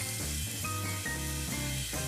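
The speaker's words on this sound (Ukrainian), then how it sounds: "Бекон віддасть свій жирок, якому буде смажитись котлета і набуде приємного аромату" Burger patty and bacon strips frying together in a pan, the bacon rendering its fat; a steady, close sizzle with soft crackling runs throughout, with no talking.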